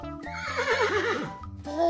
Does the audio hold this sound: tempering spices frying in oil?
no